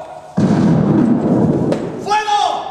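Gunfire volley sound effect fired on command in a stage rehearsal: a loud, sustained rumbling burst lasting about a second and a half, then a voice shouting close by.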